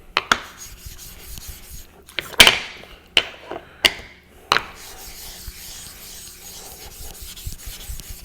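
A knife blade is honed on a 6 micron, 3000 grit ceramic whetstone, with several sharp, close scraping strokes at irregular intervals over a quiet background.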